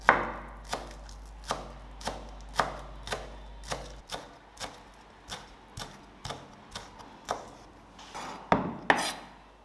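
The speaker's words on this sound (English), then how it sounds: "I also use chopped green onions to add a special flavor to the dish." Steady knife chopping of green onions on a cutting board, a run of crisp evenly spaced close-up strokes with a few louder hits near the end, no voices.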